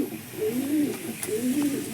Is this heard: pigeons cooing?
yes